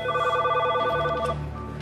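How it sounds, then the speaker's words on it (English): A telephone in a jail's direct supervision pod rings with a loud electronic warble, one sustained burst that stops partway, heard alone and close. "In the direct supervision pod, Officer Freeman gets a phone call"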